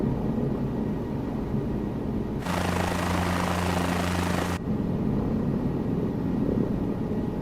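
Helicopter rotor and engine drone steadily throughout, close and loud, flying 500 feet above the ground in a traffic pattern near a helipad, with a burst of rushing wind noise in the middle.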